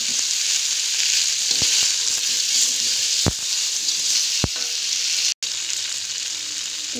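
Tofu stir-fries in hot oil with shallots, garlic and large chilies, giving a loud, steady sizzle broken by a few sharp scrapes of the spatula against the pan.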